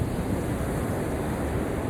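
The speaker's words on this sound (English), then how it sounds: "listen to the waves" Ocean surf at a beach roars steadily as waves break, a loud, continuous, broadband wash with some wind noise and no voices.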